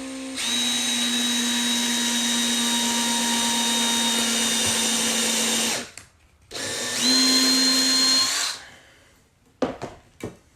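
A power drill bores into metal in two sustained bursts, a loud steady whine with a bright tonal pitch that dips slightly under load, separated by a short pause and followed by a few clatters.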